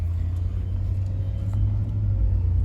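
A Toyota Sequoia engine drones low and steady from inside the cabin on a test drive, a constant rumble with faint road noise and no clear revving.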